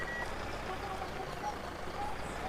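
A truck in a farming video game reverses, giving off faint, evenly spaced warning beeps over a low engine rumble, the whole scene quiet and distant.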